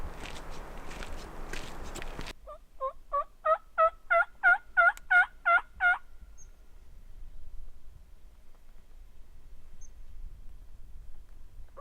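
A wild turkey gobbles on an opening-day spring hunt in Washington, a loud rapid run of about ten gobble notes rising then stopping, heard after a short burst of rustling footsteps, followed by quiet outdoor ambience.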